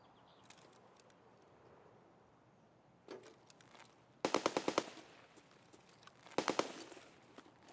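Gunfire in the game Escape From Tarkov, quiet ambience broken by a single distant shot, then two loud bursts of rapid automatic fire, each several shots long, with no talking.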